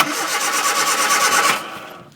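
A Hillman Avenger that has sat unused for 24 years cranks and fires into a loud close roar. The engine runs for about a second and a half and then cuts out abruptly. No voices are heard.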